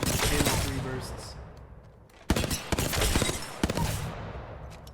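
Bursts of rapid gunfire from the video game Apex Legends, fired by a player on console, loud and dense, with a lull and then renewed clusters of sharp shots.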